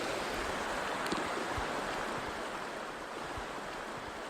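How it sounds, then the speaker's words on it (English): A cold river flows steadily over slippery rocks as hikers wade across, a constant close rush of water with faint splashes and knocks scattered throughout. "going across the river"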